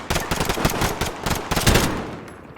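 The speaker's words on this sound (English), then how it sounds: "They're firing on civilians!" Automatic gunfire in Call of Duty Modern Warfare during an attack at Piccadilly Circus, dense rapid bursts of loud close shots that taper off near the end, no talking.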